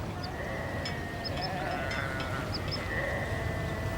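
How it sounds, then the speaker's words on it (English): Sheep bleat across a wild canyon landscape, several wavering calls at moderate distance repeating over a steady bed of outdoor ambience. "Even the gentle sound of sheep unnerves the cautious bird."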